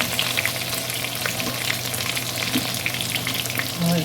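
Potato pieces frying in oil in a pan, turned until reddish and soft, giving a dense, continuous close sizzle with faint stirring underneath and no talking.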